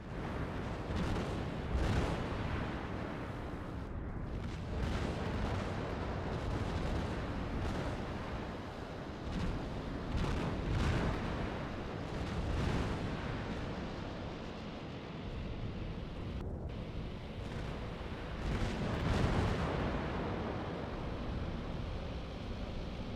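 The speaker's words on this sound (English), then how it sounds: "In the background, the bombs are falling on that carrier back there." Bombs explode on an aircraft carrier in the naval combat game Task Force Admiral, giving a continuous rumbling barrage of heavy booms and blasts with repeated thuds over a dense low roar and no speech.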